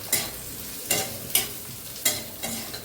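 Lentils frying with peanuts in a pan for a vegetarian taro stem curry, with a steady sizzle broken by several sharp stirring scrapes at irregular intervals, close and fairly loud, no talking.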